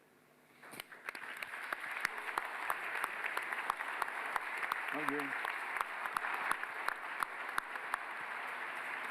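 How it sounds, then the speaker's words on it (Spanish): An audience at a lecture on socialism, populism and democracy breaks into applause, clapping that builds quickly and settles into a steady, moderately distant patter while someone speaks briefly over it. "Hartos aplausos en Chile."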